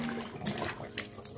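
Water runs steadily from a tap, a soft continuous splashing hiss close by.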